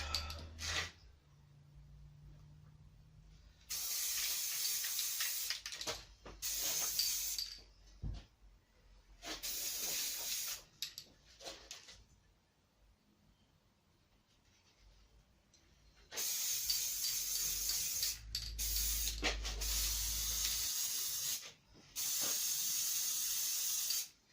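Top coat sprayed onto camouflage-painted CZ Air Arms S200 air rifle parts: several loud, sustained hissing bursts of a few seconds each, separated by quiet pauses.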